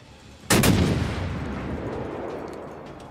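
Cruiser guns firing in World of Warships: one loud, sudden salvo boom up close, followed by a long rumbling tail that fades slowly over a couple of seconds.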